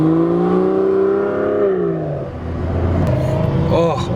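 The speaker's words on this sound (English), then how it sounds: "Vanquish sounding good." An Aston Martin Vanquish revs on a narrow two-way street near the Silverstone British Formula 1 race, a loud rising and falling engine note close by that fades, then a passing vehicle, with voices talking over it.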